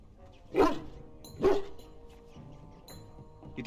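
A dog barking in the video game Dragon Age: Origins, Human Noble origin, two sharp close barks about a second apart followed by quieter yips.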